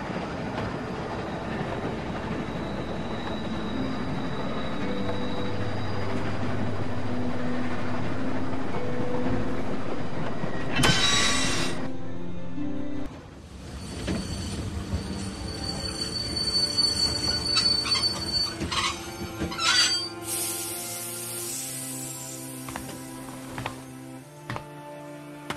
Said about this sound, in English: Stop the train, man.